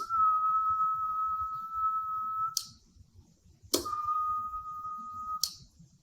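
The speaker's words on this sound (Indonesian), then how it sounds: "Saya akan siul." A person whistling a steady, single-pitch note into the microphone of a QRP SSB radio transceiver while it transmits, one long held tone, a pause, then a second long tone, with sharp clicks at the breaks.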